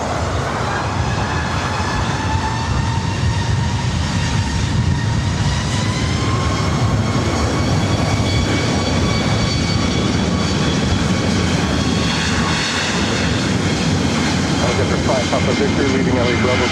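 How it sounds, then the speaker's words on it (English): A Southwest Boeing 737 MAX 8 takes off from runway 24 right at LAX, its jet engines a loud, steady roar with rising whine tones throughout, and an air traffic control voice faintly audible underneath. "RNAV Fabra, 737 MAX 8 heading to Denver"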